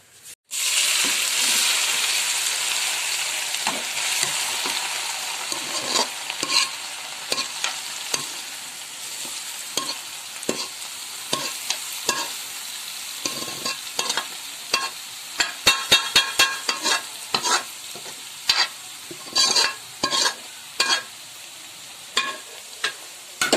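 Grated carrot halwa frying in oil and ghee in a pan: a bright, constant sizzle with frequent sharp scrapes and knocks of a spoon stirring, the clatter growing more rhythmic toward the end.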